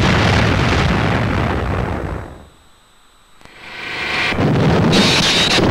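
A Nebelwerfer rocket launcher fires a salvo of high-explosive rockets in a loud, roaring wartime barrage that fades briefly, then surges back as a sustained rushing blast, heard without voices.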